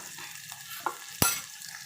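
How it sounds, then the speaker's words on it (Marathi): Onion frying in oil in a pan until pink, a steady low sizzle with a stirring scrape and one sharp clatter of the spoon against the pan, close, no talking. "कांदा थोडासा आपण तेलामध्ये गुलाबी होईपर्यंत असा भाजून घेऊया"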